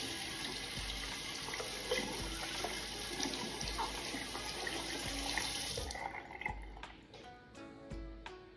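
Tap water runs steadily as a horsehair brush is rinsed beneath it, then the flow stops, leaving dripping and light splashes.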